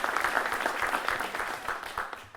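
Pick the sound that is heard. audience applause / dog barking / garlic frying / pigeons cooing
audience applause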